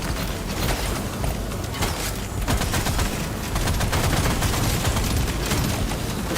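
Turrets in Deep Rock Galactic Survivor fire nonstop, a loud, dense barrage of rapid gunshots and crackling bursts layered over each other with no pause.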